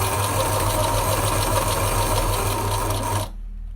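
A sewing machine stitching the seam of a fabric face mask runs loud and close with a fast steady whirring rhythm for about three seconds, then stops abruptly.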